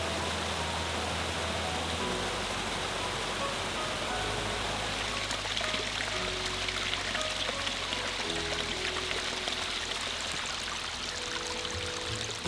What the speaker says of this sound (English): The stream crossings just keep on coming.